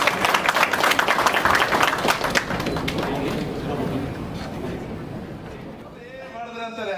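Applause breaks out from the audience at a KSLECA HAL–Marathahalli sub-committee diary and calendar release function. The clapping is brisk and strong for the first couple of seconds, then thins into scattered claps and room noise as a voice begins.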